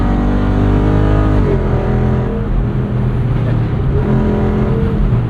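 A 2024 Jeep Wrangler 392 Rubicon with its Hemi V8 and switchable performance exhaust, heard while driving: a loud, deep, continuous engine rumble whose pitch shifts as it changes gears, with no voices.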